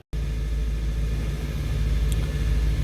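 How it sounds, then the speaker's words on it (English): A car engine during a fuel systems lab session with the fuel pump running: after a brief silent gap, a steady low idle rumble and hum sets in and carries on evenly, fairly loud and close, with no talking. "right there is when we actually turn the car on"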